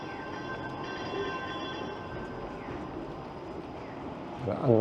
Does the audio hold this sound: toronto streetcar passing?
yes